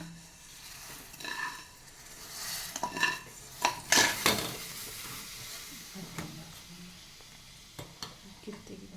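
Vermicelli going into boiling sugared milk in a pot for payasa, with scattered clinks of a spoon against the pan and soft stirring and bubbling, a few sharper metallic knocks near the middle.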